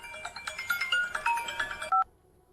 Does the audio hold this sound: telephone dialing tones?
yes